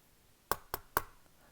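Three quick, sharp knocks on a door in an otherwise quiet room, evenly spaced and fairly close.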